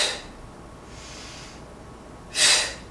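Breathing during a Pilates exercise: a soft nasal exhale at the start, a quiet drawn-out breath in the middle and a sharper, louder breath near the end, close and with no talking.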